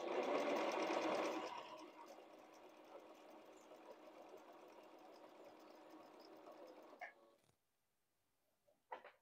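Sewing machine stitching fabric for a moth costume cape, a close steady whirring hum that runs for about seven seconds, then stops, leaving near silence with a couple of faint clicks.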